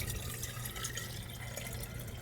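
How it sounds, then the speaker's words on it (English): Buffer solution poured into a lab flask, a continuous splashing liquid stream that stays steady and close for a couple of seconds. "I'm going to go ahead and pour this off into a flask"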